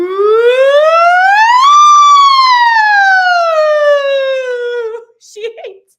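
A person's voice imitates a siren, a single loud, drawn-out wail that rises and then slowly falls, close up, followed by a brief vocal trail-off.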